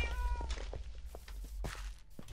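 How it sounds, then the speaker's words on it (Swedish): A cat meows once, brief and tonal, at the start, quietly amid low game background noise and a few soft thumps. "Katt! Det var din katt."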